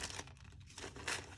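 A small plastic package is cut close up, giving short crinkling, tearing rustles in quick bursts, fairly quiet.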